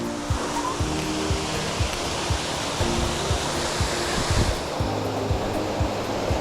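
Waterfall at Race Brook Falls, a constant broadband rush of falling water, close and steady throughout, with no talk.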